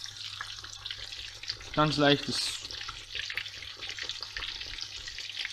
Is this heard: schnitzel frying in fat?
yes